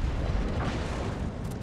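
Naval gunfire from the battleship Jean Bart in the video game World of Warships, heard as a deep, sustained booming rumble at moderate-to-low volume with no voices over it.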